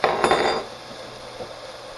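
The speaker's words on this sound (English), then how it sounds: "I'm going to get a tablespoon, just a regular kitchen spoon" A regular metal kitchen tablespoon is picked up from among utensils, making a brief cluster of close clattering clinks at the start that quickly fade into a quiet room.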